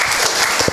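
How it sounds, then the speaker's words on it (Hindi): Applause from the audience at a Hindi poetry gathering in Indirapuram, Ghaziabad, a dense burst of loud clapping filling the whole short moment. "एक बार जोरदार तालियों से स्वागत करिए सर का।"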